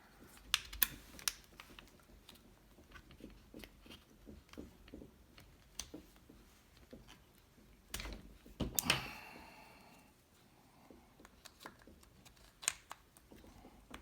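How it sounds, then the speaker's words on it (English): A 2.2 caliber insert slides into an airgun, then the bolt is pulled back, heard as a run of small close clicks and taps followed by a louder metallic slide and clack near the middle, then a few more light clicks. "It slides right in when you pull the bolt back."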